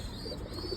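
Pigeons cooing faintly in a loft, a soft continuous low murmur in the background with no one talking.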